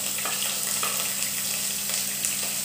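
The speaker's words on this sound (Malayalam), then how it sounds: "സവാള ഒരു ബ്രൗൺ കളറാകും വരെ വഴറ്റി" Onions sauté in a pan while being browned for a hot and sour vegetable soup, giving a steady close sizzle and frying hiss with light stirring scrapes throughout.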